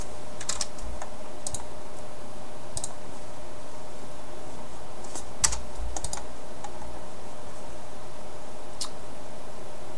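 Rapid typing on a computer keyboard, steady clicking keystrokes close by with a few louder taps, no voices.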